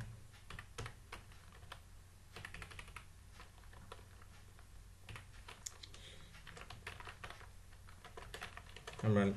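HTML code is typed on a computer keyboard in a quick, irregular patter of soft key clicks, close and faint, with a louder thump at the very end.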